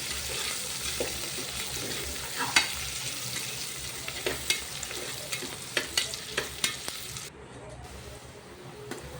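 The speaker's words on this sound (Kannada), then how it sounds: "ಈಗ 2 ಈರುಳ್ಳಿ ಕಟ್ ಮಾಡಿ ಇಟ್ಕೊಂಡಿರೋದು, ಅದನ್ನು ಚೆನ್ನಾಗಿ ಫ್ರೈ ಮಾಡ್ಕೊಳ್ಳಿ." Two chopped onions fry in a pan, a steady sizzle broken by irregular scraping clicks of stirring, with the hiss dropping away briefly near the end.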